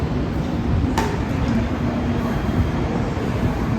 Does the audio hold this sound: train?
yes